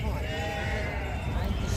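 Sheep bleat close by at a busy sheep market in Gudur, a wavering, drawn-out cry mixed with people talking nearby.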